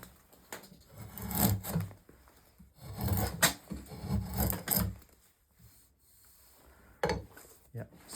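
A Pfeil drawknife shaves wood in repeated rasping strokes, each a rough scraping burst separated by short pauses, close and moderately loud.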